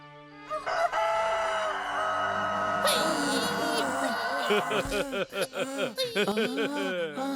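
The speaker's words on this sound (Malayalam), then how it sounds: "ഈ പാതിരാത്രിക്ക് താൻ എന്തിനിങ്ങനെ കിടന്ന് കൂവുന്നു?" A cartoon rooster crows in a long, loud, wavering call, followed by choppy clucking and chortling bursts, set against a busy animated soundtrack.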